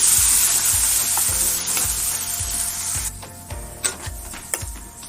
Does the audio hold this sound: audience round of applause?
no